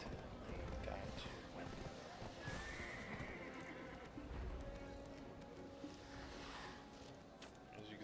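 A horse in the online game Black Desert, whinnying and clip-clopping along over a steady wash of ambient game sound, with a clear neigh rising near the middle.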